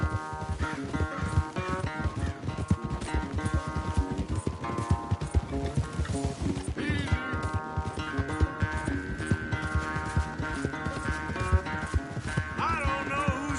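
Rapid, driving hoofbeats of a horse galloping in a video game race pound steadily throughout, under a swelling musical score, with brief whinnies and no clear talk.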